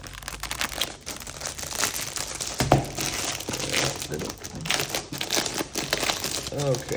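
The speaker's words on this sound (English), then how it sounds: "So much packaging to take out." Packaging crinkles and rustles as it is pulled out during an unboxing of a MäksēLife Ted planner, close crumpling and crackling in irregular bursts, with someone speaking briefly over it.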